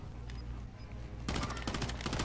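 Gunfire from a Call of Duty game erupts halfway through as a rapid burst of automatic shots, fairly close and sharp, following a quiet stretch of low background rumble and faint ambient noise.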